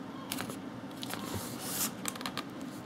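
Quiet, close snipping and crinkling as the plastic packaging of an HP TouchPad is cut with a knife, with irregular short scrapes and rustles.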